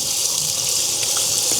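A bamboo matcha whisk (chasen) rinsed under a running tap, a steady close hiss of flowing water with no soap.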